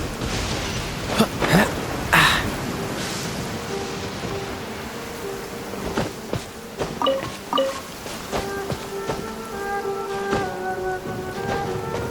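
Rain in the video game Genshin Impact: a continuous soft hiss of falling rain with scattered sharp clicks and taps, and gentle chime-like musical tones joining in the later part.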